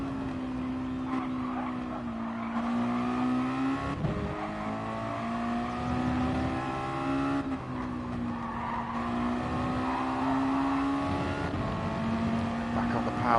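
A Mazda touring car's engine in a racing game at Circuit de Spa drones loud and steady at full power, its pitch rising and dipping with gear changes, with a voice faintly in the background.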